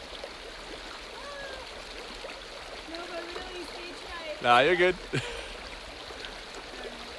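A creek flows on a Pacific Crest Trail hike as a steady rushing hiss through the whole stretch, with people talking over it and a brief loud vocal burst midway.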